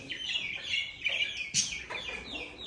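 A bird calls at a pigeon breeder's, a series of bright, clucking, chirping notes in short bursts and a louder squawk midway, close by, with faint background noise and no speech.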